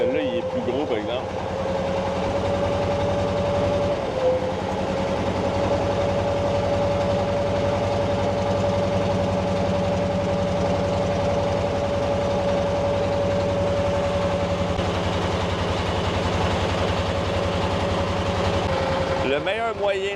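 A boat engine runs steadily throughout a river boat excursion in Hoi An, a continuous low drone with a sustained hum, loud and close, alone with no talk over it.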